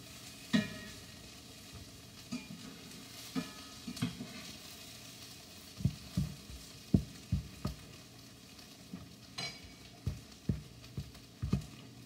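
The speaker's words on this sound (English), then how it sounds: "I'll take my hand and kind of mash it up, and the pieces of Crisco, kind of mash it up in there" A hand mashes Crisco into biscuit bread mix in a bowl, producing soft, close squishing and patting sounds in an irregular rhythm over a quiet background, with no voices.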